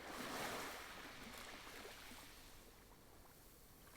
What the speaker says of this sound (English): the waves are gently lapping in front of you